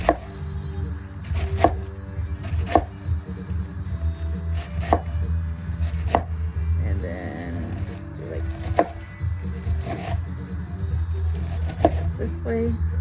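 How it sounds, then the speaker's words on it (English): A knife thinly slices a head of cabbage on a cutting board, producing repeated crisp chopping strokes in an uneven rhythm, close and fairly loud over a steady low background hum. "So I'm gonna just very thinly slice."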